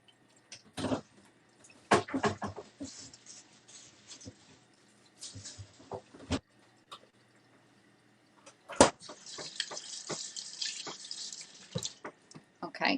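Carrots rinsed under a running kitchen tap in bursts, water splashing and pattering into the sink, with stretches of near silence between, then a longer steady run of water near the end.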